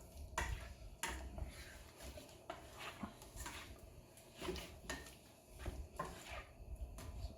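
A utensil scrapes and stirs shrimp around a hot paella pan, faint irregular clinks and scrapes over a soft sizzle, quiet and close with no talk.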